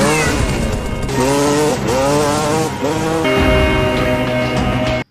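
A dirt bike engine revs loudly and up close, the whining pitch rising and falling through repeated throttle surges, then holding higher before cutting off.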